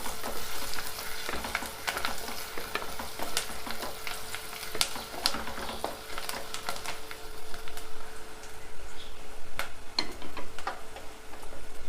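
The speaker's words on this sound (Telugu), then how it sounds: "ఉల్లిపాయలు వేగినాయి, కొంచెం పసుపు వేసుకుందాం. పసుపు నూనెలో వేగితే పచ్చివాసన లేకుండా ఉంటుంది." Onions and turmeric fry in hot oil in a pan, a steady close crackling sizzle with scattered sharp pops running throughout, no voices.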